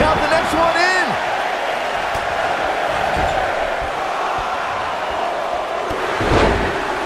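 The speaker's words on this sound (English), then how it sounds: "Listen to this crowd." Arena crowd noise in the WWE 2K19 wrestling video game during a women's Royal Rumble match, a steady roar of cheering with a few chants and thuds, lying beneath continuous commentary from the broadcasters.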